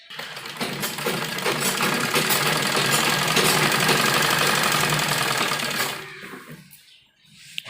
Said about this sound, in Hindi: और इस तरह से हम सिलाई लगाएंगे।